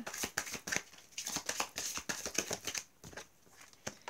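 A deck of cards is handled and a card drawn during a love-guidance card reading, with a quick run of crisp paper flicks and riffles that are close and fairly soft, then thinning to a few isolated snaps.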